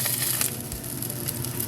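Torn tofu chunks sizzling in a hot pan, a dense steady hiss and crackle of frying with light popping, close and loud, no voices.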